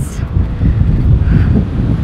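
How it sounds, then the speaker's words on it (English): Heavy wind buffeting a microphone outdoors on a farm, a continuous low rumbling roar that fills the clip with gusty fluctuations throughout. "it is so windy out here"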